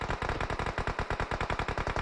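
Rapid automatic gunfire from a PUBG Mobile match, with dense, evenly spaced bursts repeating loudly and close throughout, no voices over it.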